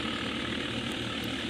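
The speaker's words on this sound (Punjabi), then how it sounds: "ਇਹ ਬਾਈ ਦਾ 855 ਟਰੈਕਟਰ ਆ" A steady, loud tractor engine drone from a 855 tractor, with a deep rumbling low end, running continuously without any voices.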